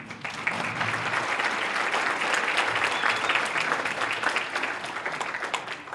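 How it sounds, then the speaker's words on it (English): An audience applauds guest Emmett McGroarty at a policy talk, giving steady, even clapping from a sizable crowd that holds at moderate loudness for several seconds. "please give a nice big round of applause for our first guest, Emmett McGroarty"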